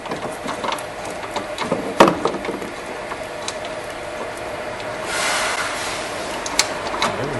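A ratchet wrench loosens a 10mm battery bracket bolt in a car, giving quiet rapid clicking with a few sharp knocks, close by and without voices.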